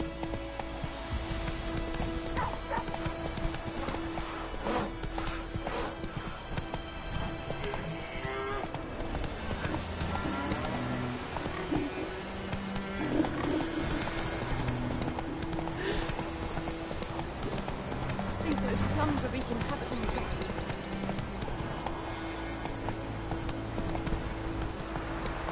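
Roach the horse galloping in The Witcher 3, a steady rhythmic clip-clop of hooves that carries on throughout under game ambience and music, with no voices.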